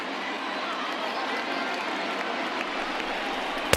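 A packed stadium crowd of over 39,000 roars steadily at a Tigers vs Reds Opening Day game in MLB The Show 20, a dense, even wash of cheering with no breaks.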